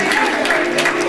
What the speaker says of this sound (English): can we just give him a hand clap of praise?